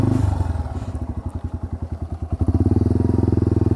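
A Yamaha TW200 motorcycle rides off-road on a moto-camping trip, its single-cylinder engine thumping in a steady loud pulse that quickens as it accelerates, close up and with no talking.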